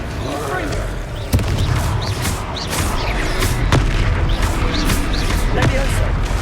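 Confringo fire spells blast repeatedly during Hogwarts Legacy combat, a rapid series of sharp booming explosions and impacts over loud game noise, with shouted voices in between.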